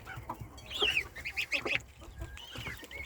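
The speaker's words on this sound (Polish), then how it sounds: "Do gąsek tutaj dołączyły te kaczuszki." Geese and young ducklings huddle together inside a chicken coop, giving a close, quiet run of honks, squeaky peeps and chattering calls over about three seconds.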